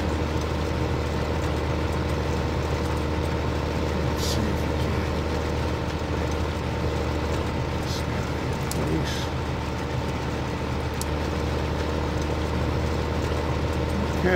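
A tractor engine running steadily in a farming game, a low continuous idling drone held at an even level throughout, with a few faint clicks on top.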